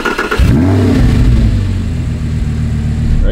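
An Audi R8 V10 Plus with manual gearbox and standard exhaust fires up with a sharp starter catch, then revs loudly close by before settling toward a throaty idle.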